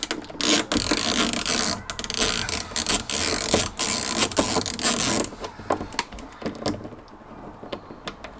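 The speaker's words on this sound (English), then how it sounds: "They're quite chunky screws, this, so in order to fit a good head in them, I'm using my ratchet." A hand ratchet clicks in quick bursts as it undoes chunky door handle screws on a classic Fiat 500, with a rapid close-up pawl rattle, brief pauses, and quieter turns at the end.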